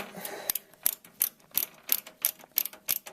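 Screws driven into motherboard standoffs while assembling a desktop computer, nine or ten crisp ratcheting clicks of the screwdriver at a steady rhythm, close and alone.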